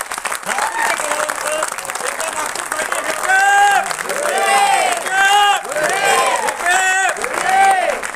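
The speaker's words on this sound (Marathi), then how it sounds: "एकदा जोरदार टाळ्या या सर्वांसाठी।" An audience at a Marathi film screening breaks into loud applause, a dense, steady mass of clapping with some voices and babble mixed in.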